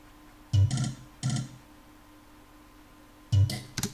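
Short, glitchy chopped synth fragments pop in and out, three quick bursts separated by near silence over a faint steady hum.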